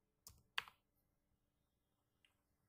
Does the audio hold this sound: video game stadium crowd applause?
no